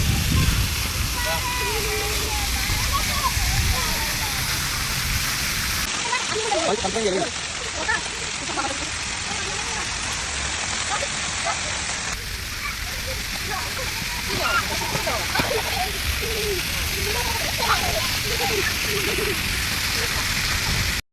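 A splashing outdoor water feature where children play near the Sharjah Aquarium, a loud continuous rush and patter of falling water close by, with voices talking over it throughout.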